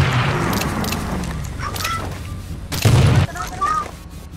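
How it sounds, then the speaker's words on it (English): A few loud booming gunshots in Rules of Survival gameplay, with the biggest blast near the end, under excited voices. "Sino gunshot to?"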